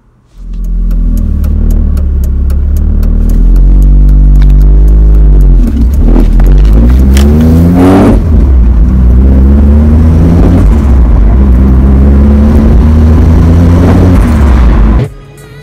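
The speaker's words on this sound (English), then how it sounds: "Let's start the car, go for a little drive" A turbocharged Mazda MX-5 starts up and revs, its engine rising and falling through several loud, close throttle blips before settling and cutting off.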